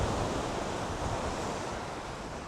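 Surf washing ashore at Lido Beach on an overcast day, a steady broadband wash of breaking waves with wind noise, continuous and fairly close, no voices.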